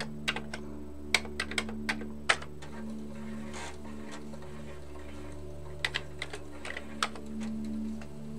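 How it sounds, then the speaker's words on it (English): Keys tapped on a Commodore 64 keyboard, a loose run of clicky strikes in two bursts with a quiet pause between, close by over a steady low electrical hum. "I need to type boot."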